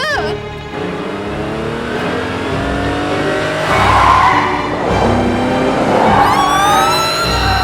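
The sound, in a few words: car accelerating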